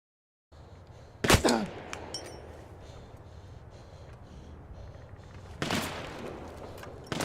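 Gunfire in Battlefield 1 multiplayer: two sharp, loud shot bursts about four seconds apart over a low battlefield rumble, no voices.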